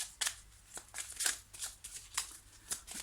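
Tarot cards shuffle and slide against each other in quick, soft bursts of papery flicks, close and fairly quiet, with no talk.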